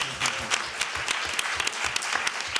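Audience applause at an arts and health conference session in Spain, a steady burst of many hands clapping with sharp individual claps standing out, sustained and fairly close throughout.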